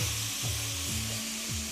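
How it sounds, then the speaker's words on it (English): Steady sizzling of beef frying in a pan as it is stirred, with a broadband hiss running throughout and a low hum underneath. "Just stir it for a moment just to take up any juices that's in there, get it frying again."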